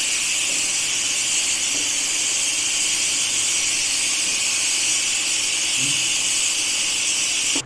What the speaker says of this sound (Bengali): সিটি বার করে নিয়েছি